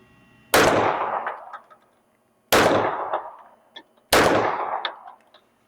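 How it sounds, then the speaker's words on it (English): Three sharp, loud 9mm gunshots from a Smith & Wesson M&P 9 Competitor PC carbine firing 115 grain rounds, spaced about two seconds apart, each with a short decaying echo on an outdoor range. "Let's go ahead and take some chest shots."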